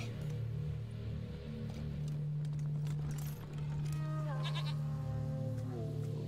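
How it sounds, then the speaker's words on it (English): A goat in the video game Wasteland 3 bleats in a few wavering cries over a steady low hum of game ambience, fairly close and clear. "There's a goat."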